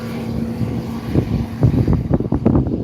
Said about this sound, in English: They've got 2 jets on the front and 1 huge jet on the back